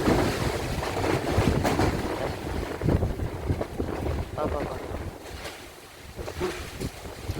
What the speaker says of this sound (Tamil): தனி காற்று